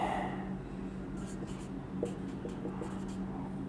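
Chalk or marker strokes scrape across a board in short bursts during a lesson, steady and close, over a constant low background hum with no talking.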